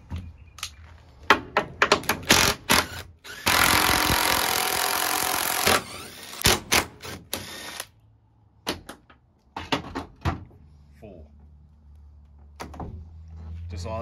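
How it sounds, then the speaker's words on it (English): Power tool undoing door bolts on a TD42 GQ Patrol in a workshop, heard as several short, loud bursts plus one longer sustained run of whirring, with clunks and handling knocks between them. "now undo the bolts and she should come straight off"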